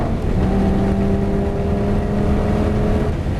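A Lamborghini Gallardo engine drones steadily with a rising tonal whine, building up speed as it accelerates on the Nogaro race track, loud and close throughout.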